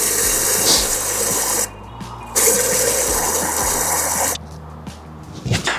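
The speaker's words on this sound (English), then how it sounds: "we'll just add water in the coolant and see if it leaks through there" Water pouring steadily into the coolant system of a crashed BMW, a continuous splashing fill that breaks off twice for short pauses, close and fairly loud, with no speech.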